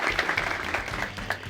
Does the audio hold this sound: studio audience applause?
yes